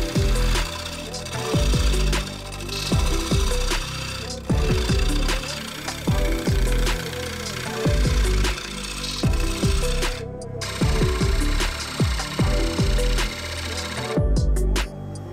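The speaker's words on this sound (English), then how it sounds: "I am going to switch to carbide because I have to push the chisel really far away from the tool rest" A large bowl spins on a wood lathe while a carbide chisel cuts it, making loud, choppy scraping and knocking bursts in an uneven, repeating rhythm, with brief pauses between passes.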